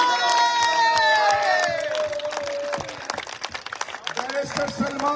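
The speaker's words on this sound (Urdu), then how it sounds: "تالیاں بجاؤ." A crowd at a political rally in Lahore claps and cheers in a dense, loud burst that thins toward the end, with a voice speaking over it.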